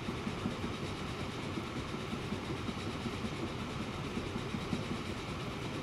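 Train running in the Transport Fever video game, a steady rolling rumble with faint rhythmic clatter, continuous and moderately quiet throughout.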